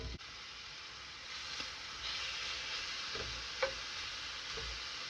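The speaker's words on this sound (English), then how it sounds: "So we'll go ahead and just dump in the bacon." Bacon frying in an oiled iron skillet, a quiet steady sizzle that swells after it drops in, with a couple of light clicks and taps, no voices.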